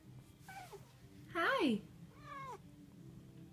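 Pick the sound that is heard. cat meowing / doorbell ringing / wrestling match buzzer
cat meowing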